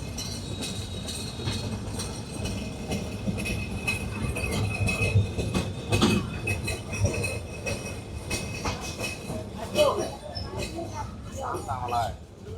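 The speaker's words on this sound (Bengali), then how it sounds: "নীলফামারী রেলওয়ে স্টেশনে আমাদের ট্রেন তার নির্ধারিত যাত্রা বিরতি শেষ করে এখন আবারও চলতে শুরু করলো" Rupsha Express pulling out of Nilphamari railway station, a steady low rumble of the train starting to roll with occasional wheel squeals and clanks, close by, with voices talking over it throughout.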